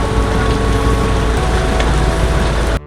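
Heavy rain heard during a long motorcycle loop ride, a steady dense roar of downpour mixed with low rumbling, loud and constant throughout with no talk.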